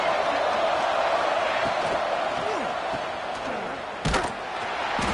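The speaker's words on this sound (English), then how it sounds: "this crowd is fired up. Listen to this noise here." A dense, roaring stadium crowd in the EA College Football 26 video game cheers steadily throughout a TCU vs Oklahoma game, with a sharp thud cutting through near the end and faint voices underneath.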